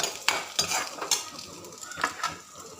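Fenugreek seeds, garlic and ginger sauté in a pan for a Kerala fish curry, with a soft sizzle broken by several metallic spoon scrapes and clinks against the pan, close and unvoiced.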